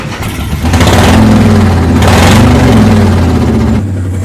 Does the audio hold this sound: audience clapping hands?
no